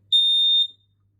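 Interlinked smoke alarm under test giving one loud, piercing electronic beep of about half a second, alone in an otherwise quiet room.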